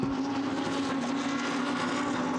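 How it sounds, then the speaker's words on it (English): Barwell Lamborghini GT race car at speed at Monza during Blancpain GT Series Endurance pre-qualifying, a steady loud engine drone with a strong constant tone, no talk. "the Barwell Lamborghini comes up towards the"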